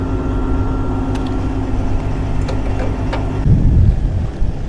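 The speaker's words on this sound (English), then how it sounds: "today we're gonna idle it. I don't want to shut it off." A pickup truck idles steadily in freezing blizzard weather, a loud continuous low engine drone with a few faint clicks and a brief louder rumble near the end.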